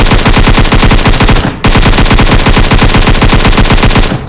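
Loud, sustained rapid-fire AKM rifle bursts in PUBG Mobile crackle close by, one long string of shots, a brief pause, then another long burst.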